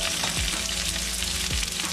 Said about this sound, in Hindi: हाँ तेल पक गया मेरा, अब इसमें डाल देती हूँ प्याज